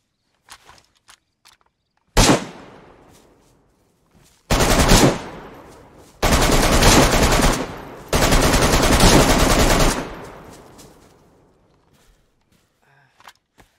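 Loud close gunfire in DayZ while shooting zombies: one sharp shot, then three sustained automatic bursts with echoing tails, surrounded by quieter footsteps and small clicks.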